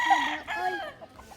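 Chickens clucking at a chicken farm, a short run of close hen calls that fades into softer clucks.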